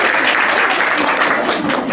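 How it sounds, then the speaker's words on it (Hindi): An audience applauds a student named Sanjana during a lecture, with dense, steady clapping that stays loud and continuous throughout. "संजना के लिए ताली"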